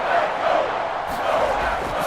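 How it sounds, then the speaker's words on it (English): A football stadium crowd roars ahead of a third down in a Chiefs at Packers game, a broad, continuous wash of cheering and shouting from far across the stands, steady and loud. "the crowd getting into it as we come up on a big 3rd down"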